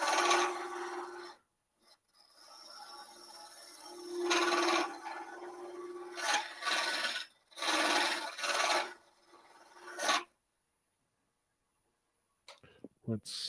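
A cup tool on a wood lathe makes a rasping, scraping hollowing cut in bursts of varying length, close and fairly loud, stopping near the end with a few faint knocks.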